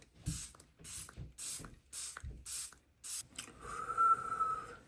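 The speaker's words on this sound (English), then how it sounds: "setting spray." Makeup setting spray misted in a rapid series of about six short, close hissing bursts from a pump bottle, followed by a fainter rustle and a brief tone, with no talking.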